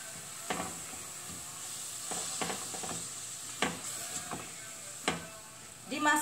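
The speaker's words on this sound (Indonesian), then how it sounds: "Setelah itu kita aduk ya, kerasin dulu apinya." Ground meat frying in a pan with curry powder while being stirred over raised heat, a steady sizzle broken by repeated scraping and clinking of the spoon against the pan.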